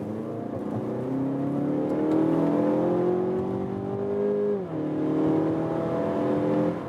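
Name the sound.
car engine accelerating hard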